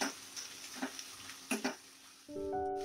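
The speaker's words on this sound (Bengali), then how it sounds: "নুন আর হলুদ দিয়ে দেবো অল্প আর কাঁচা লঙ্কাটাও দিয়ে দেব দিয়ে আবার এটা আমি 2 মিনিট একটু ভেজে নেব" Ivy gourd frying in a pan with salt, turmeric and green chilli, a low steady sizzle broken by several clinks of a spatula stirring against the pan.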